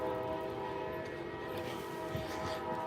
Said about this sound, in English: I hear the train a coming.